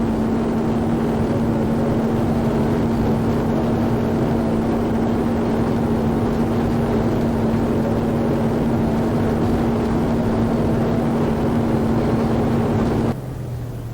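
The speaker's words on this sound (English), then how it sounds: "By today's standards, that sounds like a lawnmower, but in the 1950s, these were the top cars of their time" A 1950s Formula 1 race car engine in a racing video game of the 1951 United States Grand Prix, droning steadily and loudly at constant pitch, then cutting abruptly near the end.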